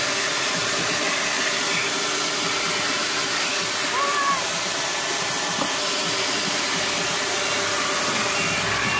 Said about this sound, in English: Got to vacuum really good.